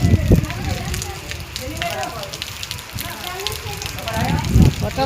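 Heavy, sudden rain in a village pours down as a dense, continuous hiss with crackling patter, fairly loud throughout, while people talk over it.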